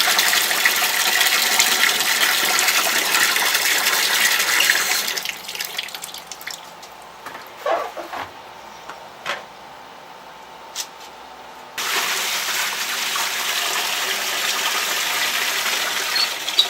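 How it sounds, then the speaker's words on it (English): Water streams from a tap over blackworms being rinsed, a steady rushing flow that stops for several seconds of quiet drips and handling noises, then resumes. "I'm going to hit them with another batch of water"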